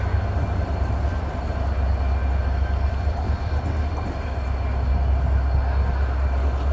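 A broad gauge diesel-electric locomotive, number 6330, uncouples from its train and pulls away at Ishwardi Junction station in Bangladesh, giving a steady, loud low rumble with a faint metallic edge and no voices.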